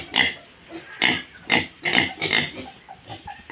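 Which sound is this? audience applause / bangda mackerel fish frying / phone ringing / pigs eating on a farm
pigs eating on a farm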